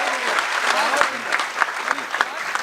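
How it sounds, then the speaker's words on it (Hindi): Audience applause at a Hindi kavi sammelan poetry event, a steady crowd of clapping hands sustained throughout at close range, with a few sharper individual claps standing out. "एक बार ताली मेरे लिए भी बजा दें आप लोग।"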